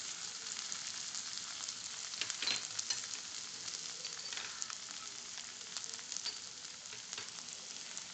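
Garlic and ginger sautéing in a pan for a red kidney bean curry, a steady close crackling sizzle with light stirring throughout, fairly even in loudness with no voices.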